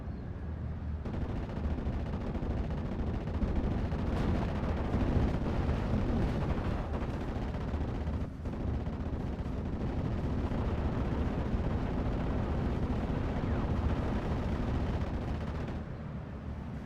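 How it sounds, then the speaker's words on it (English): An artillery barrage in a World War II strategy video game, a dense continuous stretch of booms and gunfire rumbling without a break for the whole span, loud with no talk. "We've got this barrage from the Warfrmen doing quite a bit of damage right there."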